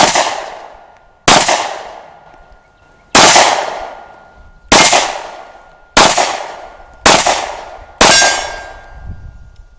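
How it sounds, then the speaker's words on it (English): Seven loud pistol shots from an XDS strike steel targets, each giving a sharp crack followed by a long ringing clang, fired at slightly uneven intervals about a second apart. "You want to try to shoot some steel, Dad?"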